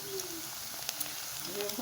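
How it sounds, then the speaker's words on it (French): Plantain chips fry in hot palm oil, a steady faint sizzle and crackle with a few soft pops, close but quiet. "Je continue la friture"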